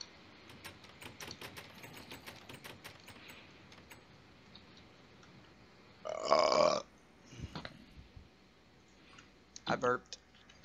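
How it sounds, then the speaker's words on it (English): A loud, close burp sounds in the middle of a game session, with rapid clicking throughout and a second, shorter burp-like burst near the end. "I burped."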